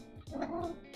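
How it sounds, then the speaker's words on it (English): A house cat gives a short, fairly soft meow up close indoors in the early morning, a single drawn-out call with no talking over it. "Heard the kitty cat, yeah."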